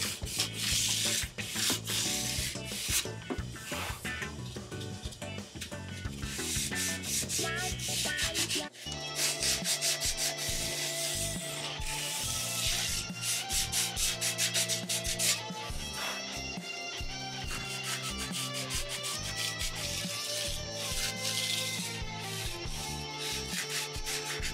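Close, loud sanding of a guitar bridge or nut with 400 grit sandpaper, an unbroken run of rapid back-and-forth rubbing strokes with no talk.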